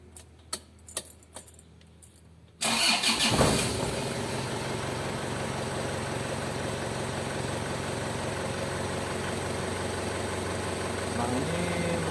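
An Isuzu Panther diesel engine, on a car with a turbo fault, is cranked after a few faint clicks. It catches abruptly and settles into a loud, steady, rattling idle that runs on close by.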